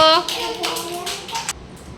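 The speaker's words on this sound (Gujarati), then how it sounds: "તાળી પાડો" Small children at an anganwadi preschool activity clap their hands in a short burst of quick, close claps, mixed with a voice and light talk.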